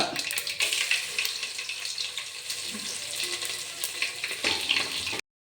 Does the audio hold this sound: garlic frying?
yes